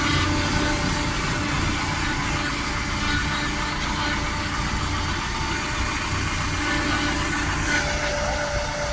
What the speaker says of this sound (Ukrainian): Ось такий тракторець з медешевським мотором